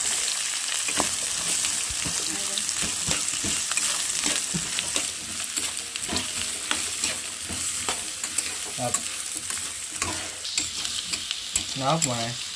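Onions, carrot and beetroot fry in oil in a pan with a continuous loud sizzle, broken by frequent clinks and scrapes of a spoon stirring the vegetables.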